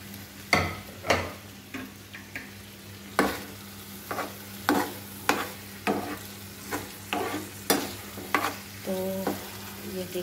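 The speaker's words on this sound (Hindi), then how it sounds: "अभी मैं इसमें बैंगन डाल दूँगी और मिक्स करते हैं इसको अच्छे तरीके से।" Eggplant being stirred into a frying spice masala for baingan bharta: a low, continuous sizzle punctuated by about a dozen sharp spoon scrapes and knocks against the pan at a steady pace, with no talking.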